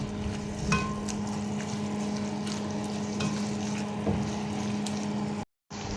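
Green beans sautéed with pepper and soy sauce being stirred in a pan, a steady sizzle with a low hum underneath and a few scraping knocks of the utensil, close and continuous, ending in a brief dropout.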